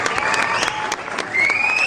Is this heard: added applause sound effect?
yes